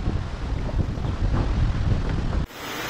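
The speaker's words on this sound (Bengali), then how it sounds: "এত জোরে হাওয়া হচ্ছে, এমন একটা সিচুয়েশন তৈরি হয়ে যাচ্ছে যে আমি বাইক চালাতে পারছি না" Strong wind buffets a microphone while riding a motorbike on a road, a loud rumbling roar with gusty low-end surges that cuts off sharply near the end into a quieter hiss.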